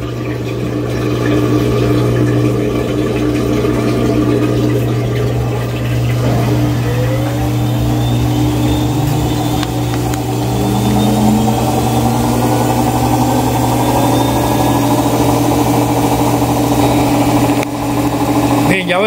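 An Electrolux washing machine motor spins in diagnostic mode, whirring steadily with a low mechanical hum and rising tonal drone, continuous and fairly loud throughout.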